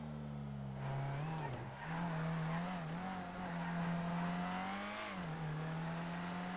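Car engine from a GTA roleplay drive, steady close motor drone with revving swells and a brief dip where the pitch drops and climbs again, tire noise underneath, no talking.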